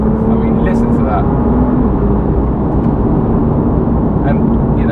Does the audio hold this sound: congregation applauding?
no